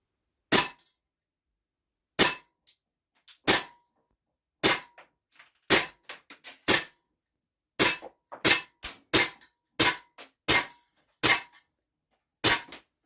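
A full-metal Glock 17 Gen 4 Cybergun airsoft pistol firing 4.5 mm BBs at 1.7 joules, sharp, close snapping shots, spaced singly at first and then coming in quicker clusters, each followed by a faint metallic ring.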